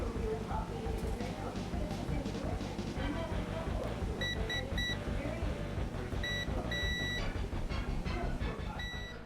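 A multimeter's continuity tester beeps repeatedly while its probes touch three pins on the chip of a SNES 1-chip console board: short, clear, high tones, some held longer, cutting through a steady background hum.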